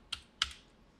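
Two sharp, close taps on a computer keyboard, spaced a fraction of a second apart, as special characters are entered in a quiet room.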